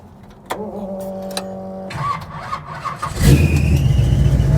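A 1957 Chevrolet 210 barn find engine running, with a few clunks and a tonal whine as it is shifted into gear, then a loud rough rumble that rises and stays heavy near the microphone.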